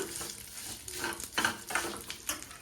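Cashews, raisins and almonds frying in a pan for vermicelli burelu, with soft sizzling and repeated spoon stirring and scraping against the metal. Sharper scrapes come in short bursts, close and fairly quiet, with no talking.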